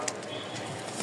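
Domestic fancy pigeons coo softly in a home loft, a low, steady murmur held at a faint distance throughout, with no one speaking.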